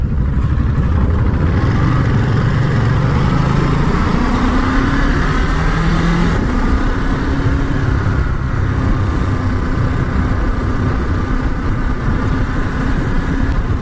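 A 2022 Ducati Monster motorcycle accelerates on the road, its engine note rising in steady loud pitch sweeps as it pulls up through the revs, with constant wind and road roar underneath and no talking.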